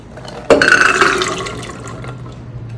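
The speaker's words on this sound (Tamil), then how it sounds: "மசாலா வேக வைக்க தண்ணி ஆட் பண்ணிடுறேன்." Water poured into a pressure cooker holding chickpeas soaked for an hour, a sudden splashing gush that starts abruptly, runs strongly for about a second, then tapers into a softer trickle and fades, with no talk.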